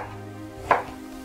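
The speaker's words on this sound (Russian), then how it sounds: "Эту капусту тоже откладываю и режу свеклу." A single sharp knife chop cuts red beetroot into chunks on a board while Georgian-style pickled cabbage is being prepared, a brief crisp thud against quiet background.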